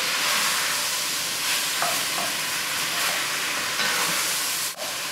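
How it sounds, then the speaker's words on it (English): Meat browning in a hot pan while being stirred, a dense close sizzle with scraping stir sounds and a brief clack near the end, no voices. "Give that a stir as well. Good, so the meat's starting to brown."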